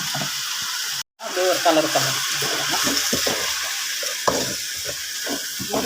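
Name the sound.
stir-frying boiled drumstick leaves with fried urad dal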